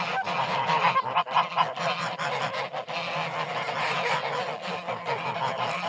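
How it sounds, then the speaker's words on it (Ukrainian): Several domestic grey geese, a gander and geese, honk repeatedly and nearby, a busy chorus of nasal calls overlapping with soft rustling throughout. "оця ось йде гусак і три гусині з ним."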